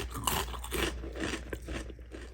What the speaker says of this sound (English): This first one has an amazing crisp